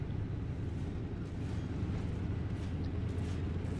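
A heavy, continuous low engine rumble with grinding mechanical texture drones steadily throughout, dense and loud, as a heavy tank rolls along in a video game.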